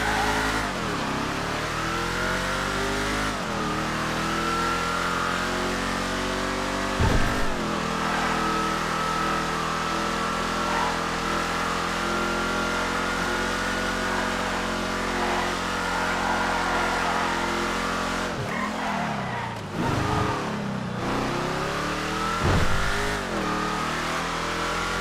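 A Rona ZZ8 car engine in a video game revs steadily while driving, a continuous loud mid-pitched drone with pitch swings at gear shifts and throttle changes, heard alone without talk.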